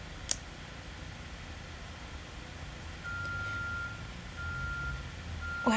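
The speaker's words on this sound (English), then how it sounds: "that truck is really annoying" A reversing truck somewhere outside sends out a steady string of high, evenly spaced warning beeps, faint and distant over a low hum of background noise.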